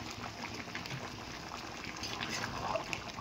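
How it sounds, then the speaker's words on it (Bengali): Ash gourd and sugar boil steadily in a pot for morabba, a soft, continuous bubbling and simmering hiss with no voices over it. "দেখুন কিভাবে ফুটছে।"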